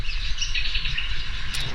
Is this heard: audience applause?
no